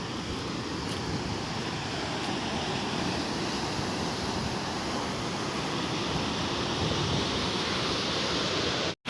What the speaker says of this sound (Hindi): ये पीछे पानी का प्रेशर आप देख सकते हैं कितना ज़्यादा है